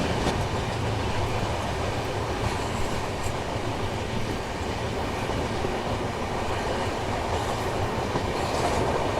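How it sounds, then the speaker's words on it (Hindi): The 12211 Garib Rath Express runs along the tracks toward Ghaziabad Junction, heard from inside a 3 AC coach as a continuous loud rumble with steady clickety-clack wheel noise and no voices. "बढ़िया ट्रैक साउंड निकाले भाई काशी विश्वनाथ ने"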